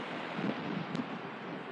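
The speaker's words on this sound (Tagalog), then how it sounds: "Lakas ng hangin." Strong wind roars past a Kymco Xciting VS 400 scooter riding fast on an expressway, a steady, broadband rushing buffet with slight gusting fluctuations and no speech.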